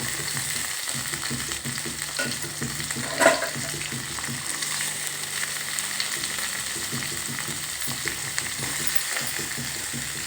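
Chopped onions fry in a pan for upma, a steady, close sizzle with occasional stirring scrapes and one sharper clink early on, no one talking.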